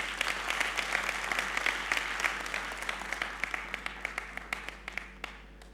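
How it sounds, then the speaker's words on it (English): An audience applauding, dense clapping that thins out toward the end into a few scattered claps. "Let's get applause for that."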